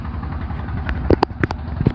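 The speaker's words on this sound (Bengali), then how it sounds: "অনেক বড় একটা নৌকা যাইতেছে" A large motor boat passing on a river, its engine a low, steady throbbing rumble, with a few louder knocking bursts toward the end.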